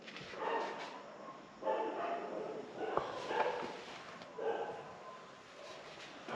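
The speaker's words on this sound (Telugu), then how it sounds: "కుక్కలు చూసా ఒక రేంజ్లో అరుస్తున్నాయి." Dogs bark and yip repeatedly outside at a distance, in uneven bursts over a low background hiss, with faint voices in the mix.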